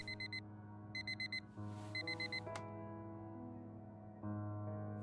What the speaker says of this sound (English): Every day that alarm goes off.